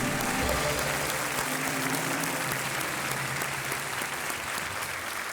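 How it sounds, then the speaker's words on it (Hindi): A studio audience at the Kaun Banega Crorepati quiz show applauds a contestant's win, sustained, loud, dense clapping held at an even level, with a faint low tonal bed underneath. "तालियां बजती रहें"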